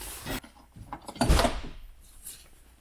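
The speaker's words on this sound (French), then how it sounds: "On écarte un peu la porte." A sliding door rolls open on its rollers, giving a few close, rumbling wooden scrapes and knocks that build to one louder push, with no talk.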